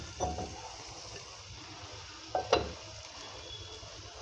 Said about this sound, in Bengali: একেবারে ডাইরেক্ট শাকটা তেলের মধ্যে দিয়ে দিব।